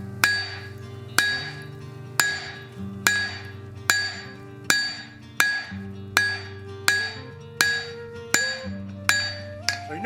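A hammer strikes hot axe steel on an anvil in a steady, evenly spaced rhythm of about a dozen ringing blows, each with a bright metallic clang that decays before the next.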